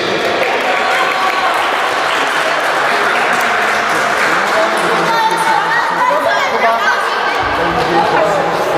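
A crowd at a youth football tournament's award ceremony claps steadily for the best goalkeeper, with dense applause mixed with chatter and children's shouts throughout.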